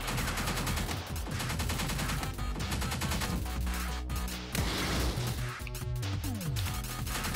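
Turret shooting in Pineapple Smash Crew: dense, continuous rapid gunfire and impacts layered over steady game music, loud throughout.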